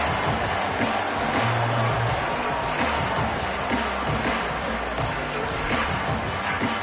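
A football stadium crowd roars continuously during a punt return, a dense, loud wash of cheering that holds steady throughout.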